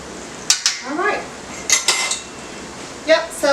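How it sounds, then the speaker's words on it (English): A metal fork clinks and scrapes in a pan while onion rings are turned over as they fry, giving several quick taps and clatters, with faint voice-like sounds between them. "I'm just giving the onion rings, just flipping them over so the other side can brown."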